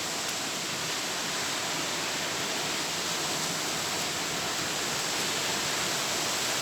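Steady broadband rush of Flotterstone Waterfall on a muddy winter day, a constant close wash of falling water with no break and no voices.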